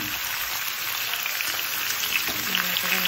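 Dried red chillies and cumin fry in oil in a home-kitchen pan, a steady close sizzle and crackle holding evenly throughout with occasional sharper pops, no voices.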